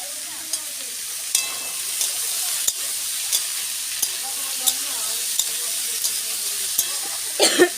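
Potato and eggplant curry sizzles steadily in a pan, with a stirring scrape or clack every second or so, and a louder burst of stirring near the end.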